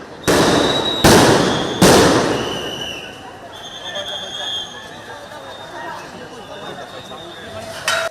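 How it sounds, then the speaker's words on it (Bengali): Three sharp, loud blasts from sound grenades thrown by police at a quota reform protest at Dhaka University, about a second apart, followed by a murmur of crowd voices and distant chatter. "এ সময় কয়েক রাউন্ড সাউন্ড গ্রেনেড নিক্ষেপ করে আইনশৃঙ্খলা বাহিনীর সদস্যরা।"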